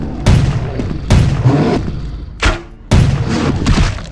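Big tanks exploding after being shot in Vampire The Masquerade Bloodlines, set in Chinatown: four heavy booming blasts, loud and close, spaced roughly a second apart with rumbling decay.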